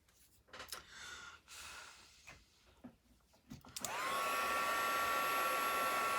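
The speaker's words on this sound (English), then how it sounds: "It dries a lot faster with the heat tool." A heat tool switches on after some quiet handling noises and blows a steady, loud whir of hot air to dry blended ink on paper cardstock, holding an even tone to the end.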